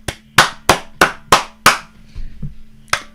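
Six loud, sharp claps in a quick regular rhythm ring out close by, then a short quiet gap with a faint rustle before one last single clap, as a participant in a live lockdown online quiz applauds the winning team.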